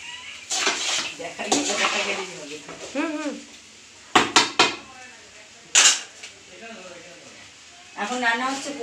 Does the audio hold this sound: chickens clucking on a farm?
no